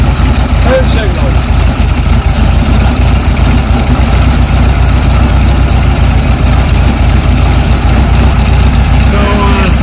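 A cold 1973 VW Beetle coupe engine idles steadily and loudly up close for the whole stretch, a low continuous rumble with some background noise throughout.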